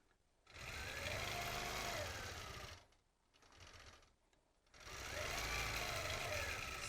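Longarm quilting machine stitching in regulated mode with a ruler, a steady mechanical hum with rapid stitching that runs, dips quietly mid-way, then resumes at full level.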